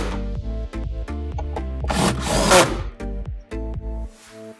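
Rapid ratcheting clicks from a flex adapter tightening fasteners during a HEPA filter installation in a Tesla Model S, close and repetitive in short bursts with a brief rougher stretch midway.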